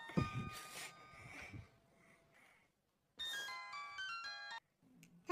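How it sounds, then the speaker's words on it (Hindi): An electronic phone ring: a chiming tone burst, a pause, then another brighter ring with layered notes, fairly close and with no talking over it. "बेल हो रही है, कोई फोन नहीं उठा रहा।"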